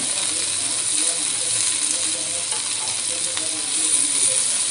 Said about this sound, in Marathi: आता आपण दुसरी बाजूही छान अशी फ्राय करून घेणार आहोत